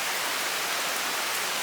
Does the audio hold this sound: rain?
yes